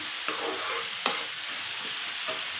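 Eggplant frying in oil in a pan for Kannada brinjal chitranna, a steady close sizzle throughout with a few soft stirring scrapes and one sharper clink near the middle, no talking.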